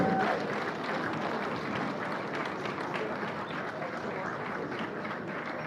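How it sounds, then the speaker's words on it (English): Continuous crowd applause welcoming the President at a book launch in Ghana, a thick, steady roar of many hands clapping in a large venue with cheering mixed in, holding at a constant level throughout. "Please keep the applause going."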